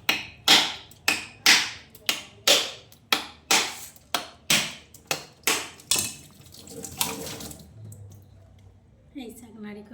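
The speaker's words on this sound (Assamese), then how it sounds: "নাৰিকলখিনি ভাঙা হৈ গ'ল" A coconut is struck over and over with a hammer for making coconut pitha, about a dozen sharp, evenly spaced cracks close by, followed by quieter handling noises.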